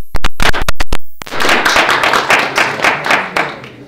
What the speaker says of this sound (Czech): Takže jestli chcete tleskat, teď je správná chvíle.